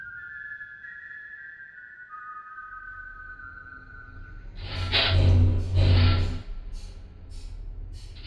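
Someone whistles a steady, tuneful melody of held notes, followed by a few loud, breathy bursts of air close to the microphone.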